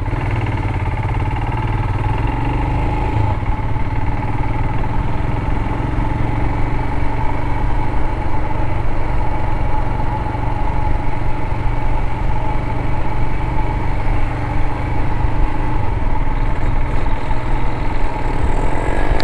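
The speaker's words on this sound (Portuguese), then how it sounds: "É a primeira vez que eu tô rodando com uma Himalaia." A Royal Enfield Himalayan motorcycle engine while riding, a steady low rumbling drone heard close and loud for the whole stretch, with only slight swells in level.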